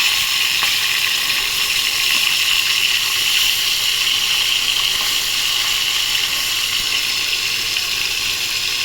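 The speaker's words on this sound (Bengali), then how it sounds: "এইভাবে ভেজে নিচ্ছি মাছগুলো।" Hilsa fish frying in a pan gives a loud, close, continuous sizzle with a bright, steady crackle that holds evenly throughout without pauses.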